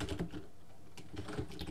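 A time is typed on a computer keyboard in quick, close clusters of key taps with a short pause in the middle.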